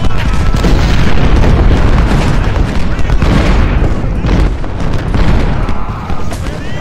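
Dense, continuous cannon and artillery fire from a Civil War battle at Malvern Hill in the strategy game Ultimate General: Civil War, heavy booms overlapping loudly throughout with no pause.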